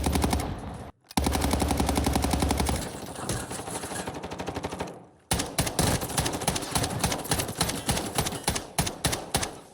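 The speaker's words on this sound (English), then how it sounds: "Shot a guy right in front of me." Rapid automatic gunfire in the Call of Duty DMZ game, loud bursts of repeated shots with brief pauses between volleys, dense and close.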